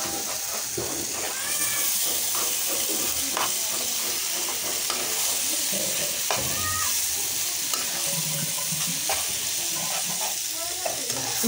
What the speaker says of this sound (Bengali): এখন ডিমটা আমি একটু ঝুরি করে নেব।